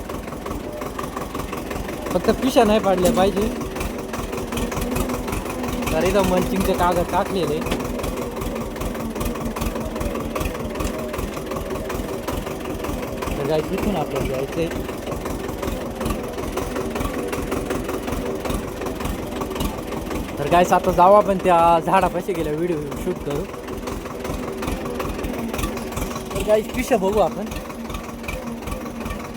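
A small tractor engine chugs steadily nearby throughout, its rhythmic diesel knock running under a person talking.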